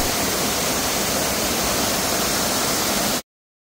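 The Caucho waterfall in the mountains of Veraguas roars in a loud, steady broadband rush close by, with no talk, and cuts off abruptly to silence.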